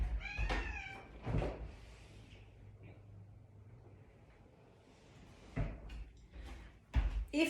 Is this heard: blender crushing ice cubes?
no